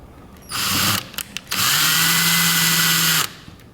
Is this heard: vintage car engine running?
no